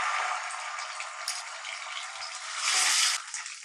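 Continuous hiss and crackle of garlic-ginger paste frying in hot oil, swelling louder briefly near the end.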